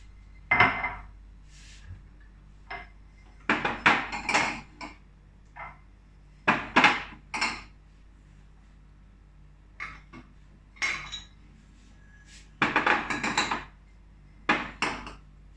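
Clean dishes and cutlery are put away, giving sharp, scattered clinks and clatters of plates, pots and utensils set down one after another with short quiet gaps between.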